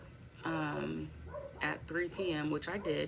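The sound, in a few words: dogs barking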